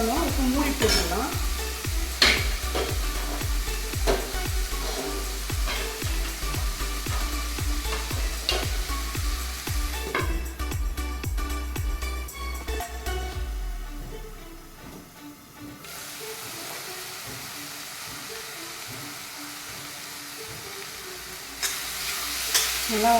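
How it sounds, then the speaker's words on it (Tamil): Two chopped tomatoes sautéing into a paste in a pan for vada curry, a loud, continuous sizzle with frequent scraping stirs that thin out partway through as the sizzle settles to a softer, steady hiss. "நல்லா 2 தக்காளி பெருசு பெருசாக அதை கட் பண்ணி பொடியாக கட் பண்ணது எல்லாம் போட்டு நல்லா வதக்கிடுங்க"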